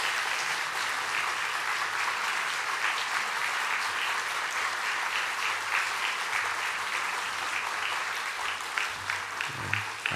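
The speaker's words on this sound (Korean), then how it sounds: "어떻게 하면 될까요? 박수로." A church congregation applauds to welcome a guest preaching pastor, with steady, dense clapping that holds for about ten seconds before thinning out.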